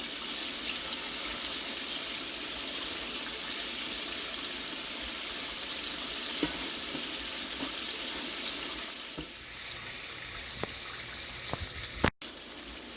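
Steady hissing and crackling of Southern-style chicken strips frying in hot oil, continuous and close, with a few faint clinks and a sharp knock near the end.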